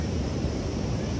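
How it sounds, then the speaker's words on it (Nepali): The Kali Gandaki river rushes below a mountain road in Mustang in the evening, a dense, steady roar of flowing water mixed with wind buffeting across the whole moment, with no voices. "तल कालीगण्डकी नदी बगिरहनु भएको छ"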